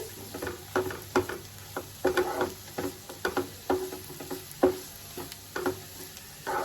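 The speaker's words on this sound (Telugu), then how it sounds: "ఒకసారి కలుపుకుందామండి. ఇంకా కొంచెం మగ్గాలి." A spicy egg curry gravy is stirred in a pan, a spoon scraping and tapping in irregular, close clicks over a soft background sizzle.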